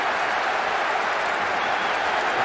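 A football match crowd in PES 2014 roaring and jeering, a dense, loud, continuous wash of noise with no break.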